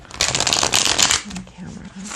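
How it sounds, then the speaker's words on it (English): A loud riffle of playing cards being shuffled close by, a fast fluttering burst, followed by softer card handling and a low voice. "I just feel like shuffling these one time"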